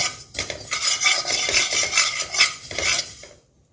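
Cumin and grains roasting in a hot, heavy kadai off the flame, with a dense, continuous scraping and rattling of dry seeds stirred against metal, loud and steady, then fading to silence at the end.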